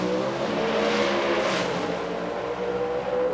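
Drag racing cars at the Gator Nationals roar steadily at full throttle, a loud, sustained engine blare heard at a distance with no talk.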